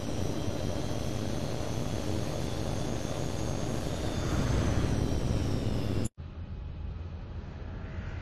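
A military jet flies in the combat flight game Tom Clancy's H.A.W.X. 2, giving a steady, loud, broadband engine roar that cuts off abruptly near the end and leaves a quieter hum.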